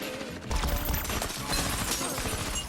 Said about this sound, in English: gunshots suddenly rang out